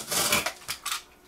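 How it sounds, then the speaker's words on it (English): Tunisian ceramic cake pans from Carthage Co clatter and clink while being unboxed, a short burst of hard knocks and scrapes that fades out within a second. "we are unboxing a pair of Tunisian ceramic cake pans from Carthage Co"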